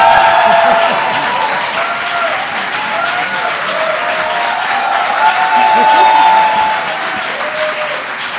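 Loud, sustained applause from a debate audience at a municipal election debate in Montreal, a dense wash of clapping hands filling the room for over eight seconds and tapering slightly near the end.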